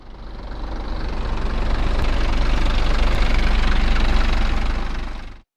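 Huge ship's diesel engine throbbing steadily in an engine room, a dense low rumble that swells in over the first second, holds close and loud, then cuts off abruptly.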